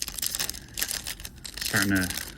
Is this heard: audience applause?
no